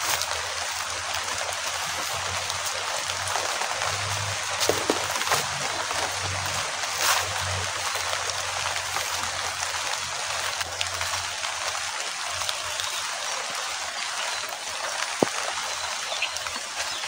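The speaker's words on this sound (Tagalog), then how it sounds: "Ay, lumalakas pa yung ulan guys oh." Outdoor rain falls as a steady, broad hiss of drops, with a few faint background rumbles and one brief sharp click near the end.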